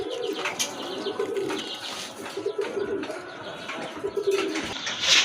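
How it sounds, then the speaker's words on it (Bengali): Several pigeons, including a pair of Chuina pigeons, coo nearby in repeated low, throaty phrases, overlapping now and then, with light rustling and an occasional chirp. "খুবই সুন্দর এক জোড়া কোয়ালিটিফুল চুইনা কবুতর আছে"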